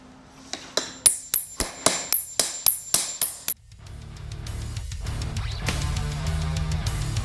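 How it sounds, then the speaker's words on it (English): About a dozen loud metallic hammer blows ring out in steady rhythm as a hammer strikes a wooden block to drive out a car strut on a 2022 WRX, followed by a duller rumbling noise. "I'm just gonna bang the hell out of this and hope I can get it out."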